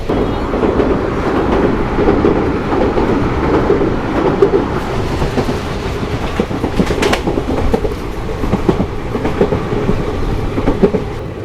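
The Vishwamanava Express train rumbles steadily along the rails on the Hubli to Bengaluru route near Harihar station, loud and close, with rhythmic clattering of wheels throughout.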